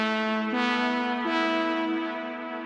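Wet synth lead from a deep house track, drenched in a long sidechained reverb tail and delay, holding sustained harmonic tones that step between two pitches, smooth and moderately quiet with no voices.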